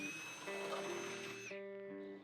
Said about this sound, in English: I had a 1/2 inch drill and that's what I started with.